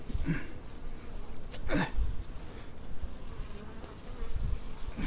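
Carniolan honey bees buzzing around hive frames on a cold spring day, a dense, close drone with individual bees sweeping past the microphone, heard alone without talking.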